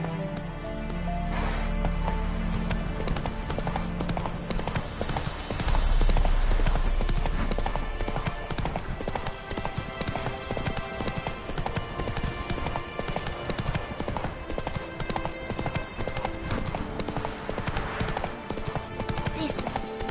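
Horse hooves clip-clopping in a brisk, continuous rhythm, close and fairly loud, with a thump partway through and voices talking over the hoofbeats.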